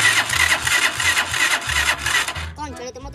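A motorcycle engine cranks and sputters with a low repetitive rumble, cutting out near the end as a voice briefly speaks.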